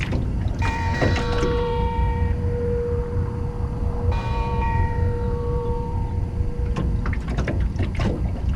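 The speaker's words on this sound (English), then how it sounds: "It's the bell that stands out." Church bell tolling in the video game Miles Morales, two clear resonant strikes with long ringing decay against a steady background ambience, somewhat muffled and mid-distance.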